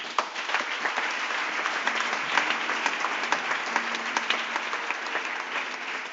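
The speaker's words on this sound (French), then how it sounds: "acclamez Jésus" A church congregation applauds with dense, continuous clapping that holds at an even level throughout, a broad crowd sound with no individual claps standing out.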